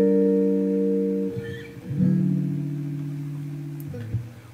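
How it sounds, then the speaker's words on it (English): Electric guitar routed through Ableton's stock amp and cabinet simulation, ringing out a few sustained chords and notes alone with fuller warmth and moderate loudness. "If you're in Ableton, you can use Ableton's stock amp and cab."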